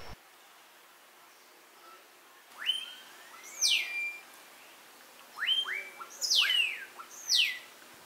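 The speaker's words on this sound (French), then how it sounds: "On entend presque tout le temps le cuiscal chanteur qui est commun dans la région" Several clear, rising and falling whistled calls of a great-tailed grackle ring out in bursts after a quiet start, sharp and fairly close, with short gaps between phrases, in Xpujil, Mexico.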